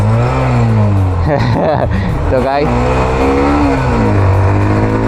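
Hero Xtreme 125R motorcycle pulling hard through the gears, a loud steady engine drone that rises and falls as it shifts, with someone talking briefly over it.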